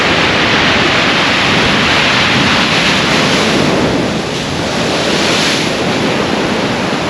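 Big waves of a rough sea crash steadily along the cliff-backed Holderness Coast at Aldborough, a loud unbroken roar of surf with wind rumbling against the microphone and a slight dip midway.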